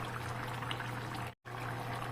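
A little water is poured into simmering chicken curry, a steady close trickle and splash that runs continuously apart from one brief cut.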